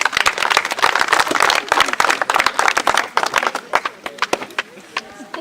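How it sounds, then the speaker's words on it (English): High school audience claps for a visiting guest, loud close hand claps in a dense burst that thins into separate, uneven claps toward the end, with some voices underneath. "Let's clap for him."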